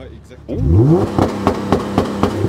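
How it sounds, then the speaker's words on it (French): A VW Golf 2 GTI 16v engine revs up sharply, then bounces against a limiter at around 4000 rpm in quick, regular pulses, loud and close, with voices talking over it. "C'est pas le rupteur, c'est un limiteur."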